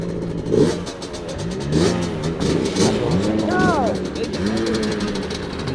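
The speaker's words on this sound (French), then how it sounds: "Là on a une ancienne qui est une moto bécane." A mid-pitched engine of an old motorcycle revs and idles nearby at a car gathering in Vesoul, rising and falling in pitch, with people talking over it.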